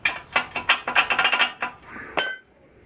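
Ratchet wrench working a bolt on a Yamaha XS650 motorcycle, a close run of quick metallic clicks and ratcheting strokes, then a sharp clink and silence.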